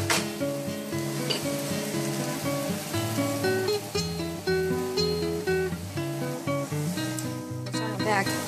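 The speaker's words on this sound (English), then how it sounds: "just letting this simmer down just a little bit more so I can put the spinach in there" Chopped tomatoes simmering in a pan for veggie rice pilaf, a continuous close sizzle and bubbling with occasional stirring, over steady background music.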